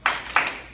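Two sharp hand claps about a third of a second apart during a karate belt test, close and crisp with a slight room echo after each.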